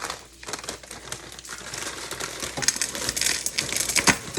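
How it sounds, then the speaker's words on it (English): A plastic bag of corn is cut open on a kitchen table for homemade country-style spaghetti, giving a close, steady run of crinkling and rustling plastic that grows louder toward the end, with no talking. "I'm going to cut it out of the bag"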